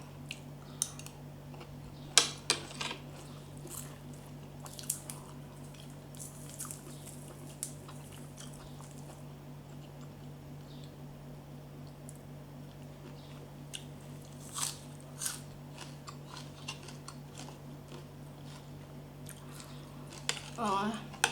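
Someone eats santol salad, a spicy pounded Thai salad of santol fruit with fermented fish sauce. Sharp crunchy bites and chewing come in scattered bursts over a low steady hum, close and fairly quiet.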